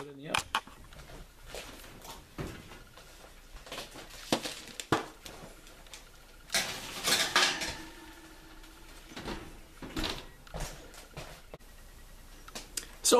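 A baking sheet of hardtack slides into a preheated 350-degree oven, giving scattered light metallic clanks and scrapes with a brief burst of rattling near the middle, close and moderately quiet.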